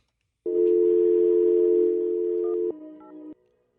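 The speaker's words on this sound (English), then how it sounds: "I'm calling the mystery guest up." Telephone call being placed: a loud, steady dial tone holds for a couple of seconds, then a few brief keypad beeps sound as the number is entered before the tone cuts off.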